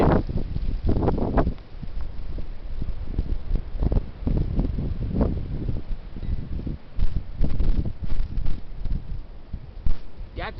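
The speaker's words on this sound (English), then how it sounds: "Here it is. The heavy wind." Strong gusts of heavy wind buffet outdoors among trees, arriving in irregular surges of low rumbling roar that rise and fall over several seconds.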